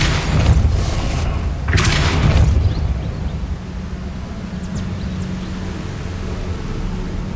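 Depulso force spell cast in the Hogwarts Legacy video game, a deep booming burst repeated twice in quick succession, then fading into a low rumbling ambient hum.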